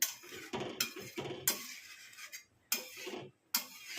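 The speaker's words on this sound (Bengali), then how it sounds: "এটাকে নাড়িয়ে দেবো ভালো করে।" Paneer curry stirred in a pan (kadai), with a spoon scraping and clinking against the metal in repeated loud bursts separated by short pauses, close by and without talk.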